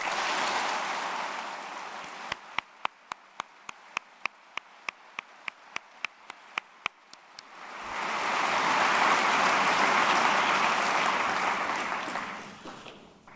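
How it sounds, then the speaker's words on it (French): At a university's academic-year opening ceremony, an audience in a lecture hall breaks into a full, dense burst of applause that swells and then fades over several seconds. Quieter room noise and a series of sharp, evenly spaced ticks come before it. "je vous propose de tous les applaudir"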